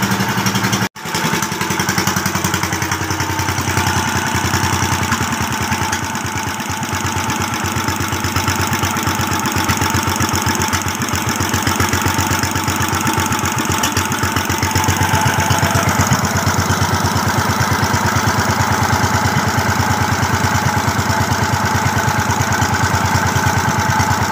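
A repaired engine, running on its third day after being rebuilt, idles loudly and close by in a steady, unbroken rhythmic chug that carries on throughout after a brief initial thump.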